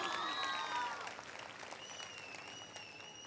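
Audience applause at a direct-selling success event in Gorakhpur, a dense wash of clapping heard throughout, with a few electronic whistling tones over the first second and later faint sustained tones over the crowd.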